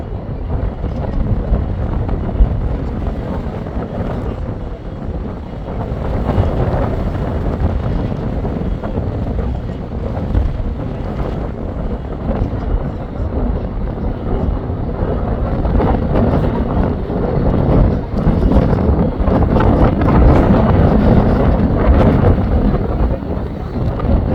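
Strong wind of about 30 blows on a South Padre Island beach on the Gulf, buffeting the microphone in a loud, continuous rumble that swells and eases slightly, with no voices.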